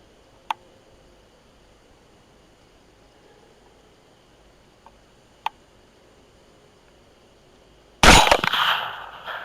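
A 6.5 Grendel rifle fired at a boar, a single sharp, loud gunshot near the end that cracks out of quiet night ambience and decays quickly, preceded by a couple of faint isolated clicks.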